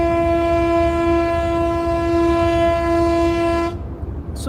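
Out at sea, a foghorn gives a loud, sustained blast as a single steady chord over a rumbling low background, cutting off abruptly near the end.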